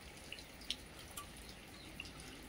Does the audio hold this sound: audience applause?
no